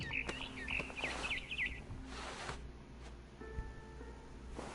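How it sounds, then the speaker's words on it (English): A barn swallow chirps outside a window in a game scene, giving a short run of bright, wavering tweets early on, fairly clear over a low steady background hum, then fading to faint tones. "Then I heard chirping outside my window. It was a barn swallow going back to her nest."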